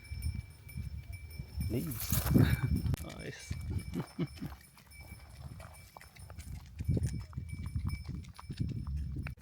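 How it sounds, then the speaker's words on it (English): A donkey walking on a rural track near the Albania–Greece border, its hooves clip-clopping in an uneven rhythm at close range beneath a voice. "Bringing up the donkey with some"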